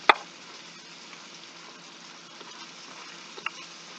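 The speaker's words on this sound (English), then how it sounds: "Browning the beef is putting the skillet on medium high" Ground beef browns in a skillet over medium-high heat, giving a soft, steady sizzle throughout with a sharp clack at the start and a small knock near the end.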